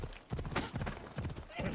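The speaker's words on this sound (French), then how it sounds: "on va peut-être appeler le cheval" Horse hooves clip-clop in Assassin's Creed Odyssey, a steady run of evenly paced hoofbeats close by. Some voice-like sounds are mixed in.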